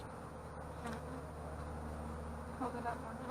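Honey bees buzz in a steady, dense drone while a beehive is opened for inspection, the swarm close and continuous throughout with no talk.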